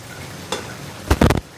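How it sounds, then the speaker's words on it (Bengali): Beef tripe frying in oil in a pan with a low sizzle, broken by a brief scrape of stirring and then a louder cluster of quick stirring scrapes near the end. "আপনারা এইভাবে করে খাবেন বটটা, একদম ভাজা ভাজা হবে বটটা"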